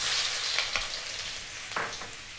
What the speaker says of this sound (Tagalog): Mainit na po yung cooking oil. First step, lagyan natin yung ating ginger.